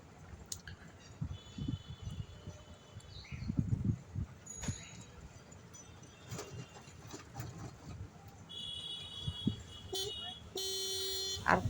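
Auto rickshaw riding through busy street traffic in the heat, with engine rumble, scattered noise and several horn toots, including a longer honk near the end.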